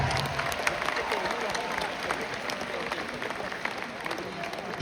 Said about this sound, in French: Je voudrais aussi qu'on applaudisse bien fort